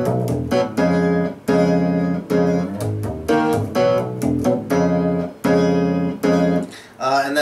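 A straight eighth-note groove played over the chords of a song, with steady chopped chord stabs and short gaps between phrases, loud and close, without any voice.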